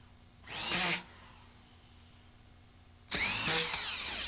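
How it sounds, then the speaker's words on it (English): A screw gun drives drywall screws in two separate bursts of whirring, each roughly half a second to a second long, loud and close with a quiet pause between. "An alternative to nailing is to use drywall screws and a screw gun."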